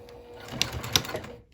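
Sewing machine back stitching the seam around a small circle wristlet bag at slow speed, with a few close mechanical clicks and soft whirring over a quiet room.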